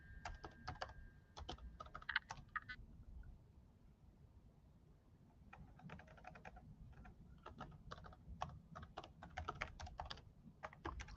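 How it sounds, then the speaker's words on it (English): Quiet, steady typing on a computer keyboard, clicks coming in quick bursts with a short pause in the middle, no voices. "Just typing this out, checking my spelling."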